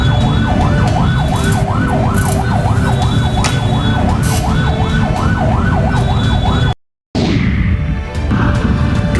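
An ambulance siren wails, rising and falling steadily over loud traffic rumble, continuous and close, stuck in holiday return-traffic congestion at Simpang Ratu, Cibadak, then cuts out abruptly before the road noise returns.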